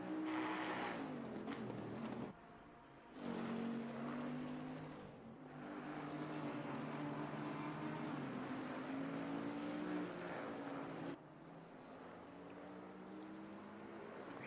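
Race cars, including a Bentley, come round toward the start-finish line during a 35th lap, their engines droning loudly with shifting pitch, dipping briefly as gears change, then settling into a sustained roar.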